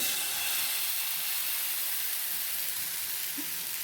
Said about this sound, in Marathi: हे पीठ मी आता या तव्यावरती टाकून घेते